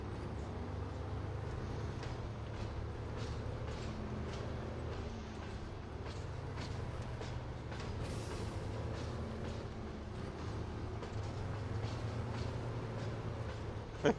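A diesel locomotive of about 3,500 horsepower in the off-road driving game SnowRunner, running as a steady low engine rumble with faint rail clatter throughout, no voices.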